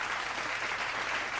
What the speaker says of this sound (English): Let's give him a clap for that.